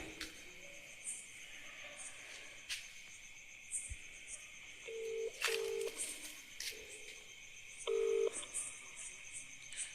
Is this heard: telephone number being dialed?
yes